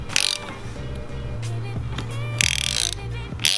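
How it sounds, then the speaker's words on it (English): A ratchet wrench loosening the strut top mount nut on a BMW E46 during a camber plate install, steady close clicking runs with short pauses, heavier metallic bursts between them, and no talk. "Martin uses a 22 to remove the top nut."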